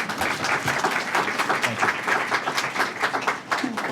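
An audience claps to welcome a panel at a nonprofit leadership event, a sustained, even wave of dense applause from a full room that holds steady throughout, with no speech over it.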